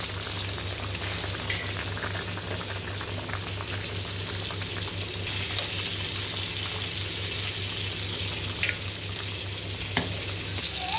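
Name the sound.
fish simmering in a pan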